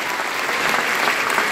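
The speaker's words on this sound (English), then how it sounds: "Give a mighty hand clap to the Lord." A church congregation at a rally claps hands together, a dense, steady burst of loud applause from many people filling the room without a break.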